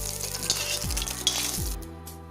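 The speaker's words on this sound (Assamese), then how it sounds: "এতিয়া মাছখিনি ভজা হৈ গ'ল।" Fish pieces fry in oil in a wok over a medium flame, a close, steady sizzle with a couple of brief stirring scrapes, fading near the end.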